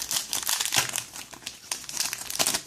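Packing tape crinkling and tearing as it is pulled off the plastic wrapping of a Pokémon card tripack, a close run of crackly peeling bursts with no talking.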